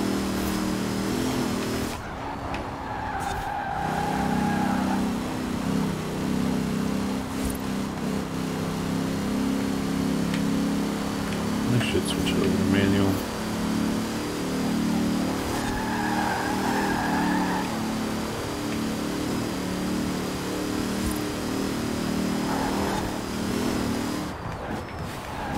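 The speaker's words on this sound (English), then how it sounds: "It sounds like a supercharger" An Ariel Atom with a supercharger in Forza Horizon 4 drones and revs steadily for the whole stretch, with the engine note rising and falling and a few brief squeal-like tones, loud and continuous with no talking.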